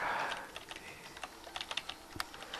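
Rapid keystrokes on a computer keyboard while entering values in Cinema 4D, a quick run of light clicks followed by scattered individual taps, close and clear with no talking.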